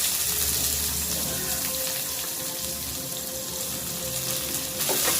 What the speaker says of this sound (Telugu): ఫ్రై అవ్వాలి ఆనియన్